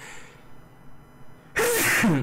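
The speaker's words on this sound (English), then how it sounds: "Hold up, I need to sneeze" A single sudden sneeze bursts out loud and close after a quiet stretch, from a person playing The Sims 4.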